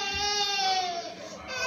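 An infant cries in a sustained, strained wail, a little distant in the room, without a break.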